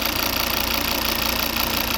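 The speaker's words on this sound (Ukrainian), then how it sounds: "Тепер буде краще чути, як працює двигун. П'ятициліндровий." A 2011 Volvo V60 D3 2.0-litre five-cylinder diesel engine idles close by with a steady, even throb and a constant mechanical rumble, no voices over it.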